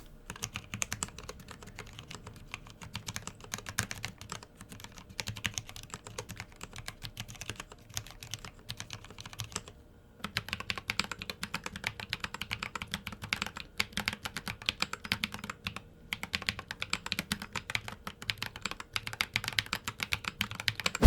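Continuous typing on a keyboard with lightweight keycaps, about 1.7 mm thick, producing dense, light clicks with a couple of brief pauses, close and fairly soft.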